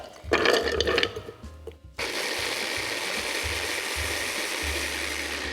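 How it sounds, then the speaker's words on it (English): A kitchen blender grinds shallots and garlic together, starting with short uneven pulses and bursts of rattling, then settling into a steady, loud, continuous whir that runs to the end. "let's grind the shallots and the garlic together"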